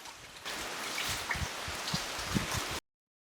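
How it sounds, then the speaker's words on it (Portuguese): Fresh water springing naturally from the ground at a rocky hillside spring, a steady close wash of trickling, gurgling flow with small splashy drips, heard alone without voices. "encontramos uma fonte de água doce jorrando das profundezas do chão"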